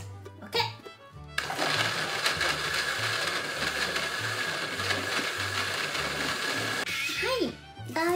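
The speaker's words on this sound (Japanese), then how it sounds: "ミキサー、大好きなミキサー。" A kitchen blender whirs loudly and steadily for several seconds blending onion and water into a sauce, with a person talking briefly before and after over background music.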